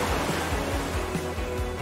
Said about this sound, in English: he sees wild, choppy waves carrying ocean debris and seaweed